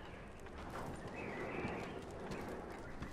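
Horses moving in Red Dead Redemption 2, with soft clip-clopping hooves and shuffling under quiet ambient birdsong, fairly faint and close.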